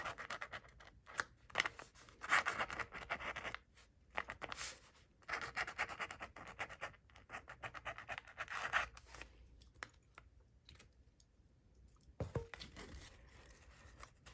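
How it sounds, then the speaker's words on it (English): A pen writing a name on paper at a craft table, giving a quiet, continuous scratchy scrawl of strokes with short pauses between words, close by and with no talking. "So I'll just write his name."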